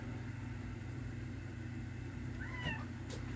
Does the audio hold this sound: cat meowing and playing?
yes